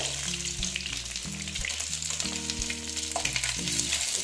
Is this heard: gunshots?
no